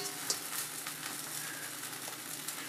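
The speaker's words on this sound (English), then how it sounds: "I'm just gonna toss it on the skillet now and let it cook" A pupusa cooking on a hot skillet gives a steady, faint sizzle and crackle throughout, with no talking.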